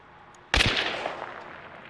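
A single sharp Caldwell Conversion pistol shot from Hunt: Showdown cracks out loud and close, followed by a short fading echo tail.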